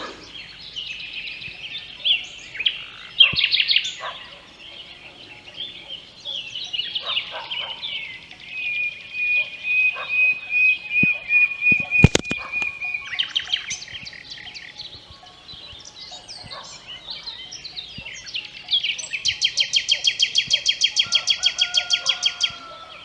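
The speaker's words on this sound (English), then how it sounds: "There's a nightingale up here somewhere." Nightingale singing outdoors in a meadow, a varied series of clear whistles, fluty notes and rapid repeated trills, loud and close with short pauses between phrases.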